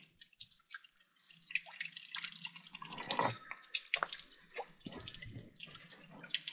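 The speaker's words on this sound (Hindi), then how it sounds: "यहाँ के पहाड़ों से जो पत्थरों के बीच से पानी रिसता रहता है" Water seeping and dripping between rocks in the mountains at Alha Ghat, Sirmour, heard as a steady scatter of small drips and trickles close by, with faint voices in the background.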